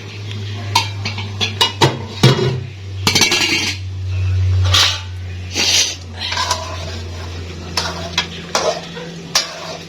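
A spoon stirring food in a cooking pot on a home stove, with repeated scraping strokes and clinks over a soft steady sizzle, close and fairly loud.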